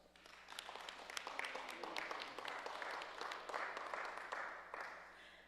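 A room applauds certificate recipients at a presentation ceremony, soft and distant clapping that swells in the middle and tapers off, with a few crisp individual claps and light chatter in the background.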